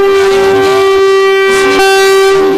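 A Vande Bharat Express train sounds a loud, sustained horn as it departs after its flag-off ceremony, a continuous blaring tone filling the whole moment with no talk.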